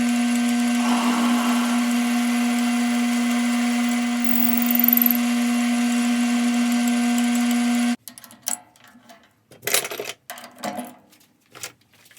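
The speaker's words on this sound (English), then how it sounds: "when I'm drilling the tobacco chamber" A steady electric motor whine with a strong constant hum runs for several seconds as a 5/16 bit drills the tobacco chamber of a Danish-style pipe, then cuts off, followed by scattered clicks and scraping handling noises.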